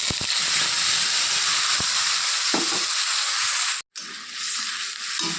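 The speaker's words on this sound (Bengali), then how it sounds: "ওই পনির ভাজা তেলের মধ্যে দিয়ে দেব একটা কিছু তেজপাতা পাঁচফোড়ন দিয়ে পেস্ট করা মশলাটা দিয়ে দেবো" Bay leaf, panch phoron and spice paste dropped into hot oil left from frying paneer sizzle loudly and steadily at close range, with a brief dropout near the end before the hiss resumes.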